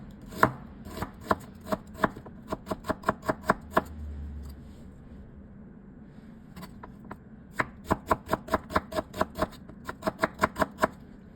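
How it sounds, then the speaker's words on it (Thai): A knife slicing shallots into rings on a cutting board for a Thai quail-egg larb, with rapid, even chopping taps in two long runs separated by a brief pause, close and crisp with no talking. "หอมแดงเราก็จะหั่นเป็นแว่นๆนะคะ"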